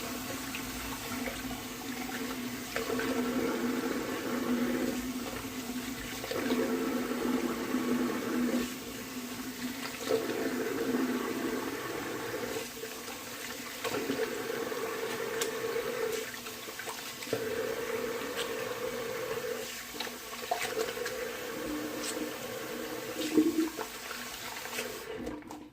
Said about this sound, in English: I'm going to go ahead and do a cold water rinse.